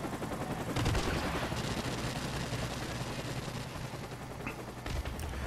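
Gunfire in Call of Duty Modern Warfare Remastered, a dense stretch of rapid shots and automatic bursts that keep rattling throughout, with a few sharper nearby cracks standing out from the steady battle noise.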